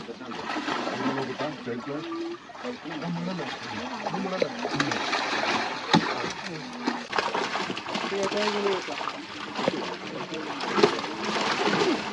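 Water trickles and splashes in a pond as fish are caught with a net spread across it, sloshing in uneven bursts beneath someone talking steadily, with faint birds in the background.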